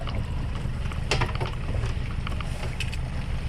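A fishing boat's motor runs steadily at close range, a continuous low rumble with wind and water noise over it and no clear talk.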